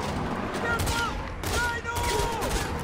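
Gunfire rattles almost nonstop during a firefight in the open-world shooter Far Cry 4, with rapid bursts layered into a dense, loud barrage.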